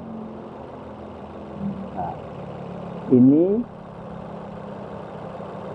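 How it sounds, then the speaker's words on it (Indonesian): A 2017 Suzuki Ignis with a manual gearbox and a warm four-cylinder fuel-injected engine idles smoothly, giving a steady, low, even hum; someone speaks briefly over it. "posisi mesin sudah panas dan kompresi bahan bakarnya berjalan lancar sehingga mesin injeksinya terdengar halus sekali"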